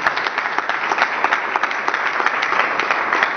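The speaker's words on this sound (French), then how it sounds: "Je vais vous inviter à un meilleur applaudissement pour cette initiative." An audience at a fundraising campaign event applauds an initiative, loud close clapping with distinct individual hand claps standing out through a short continuous burst.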